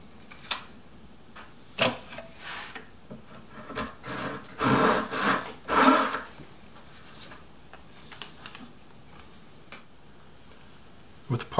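A hand saw cuts wooden stock for kumiko latticework in a short burst of rasping strokes, with scattered taps and handling sounds before and after, close and fairly quiet.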